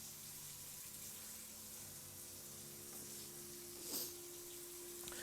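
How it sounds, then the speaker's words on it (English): Water runs steadily from a tap in an indoor room, a continuous hiss kept low in the background, with a brief louder splash partway through. "No, that's the water running."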